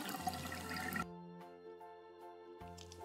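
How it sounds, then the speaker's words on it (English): Water gushes from a tap during a toy baby doll's hand-washing routine, a steady broadband rush for about a second that then cuts off, followed by quieter tonal sounds. "Let's turn on the water."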